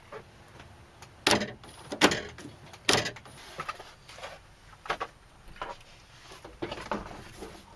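Door lock actuator on a Chrysler Town & Country cycling during a test, a series of sharp mechanical clunks and clicks spaced irregularly over several seconds, close and fairly loud against a quiet background.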